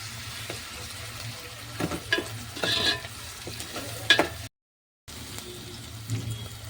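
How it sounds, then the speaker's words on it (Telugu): Fresh ginger garlic paste sizzling in a pan as it is stirred: low frying hiss under a series of distinct scraping strokes and light clatters, with a short silent break partway through before the sizzle resumes. "ఫ్రెష్ అల్లం వెల్లుల్లి పేస్ట్ వేసుకుంటున్నాము. ఒకసారి బాగా కలిపేస్తున్నాం."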